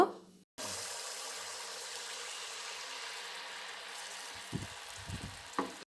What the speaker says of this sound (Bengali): এবারে তেলের মধ্যে এক হাতা ব্যাটার দিয়ে দেব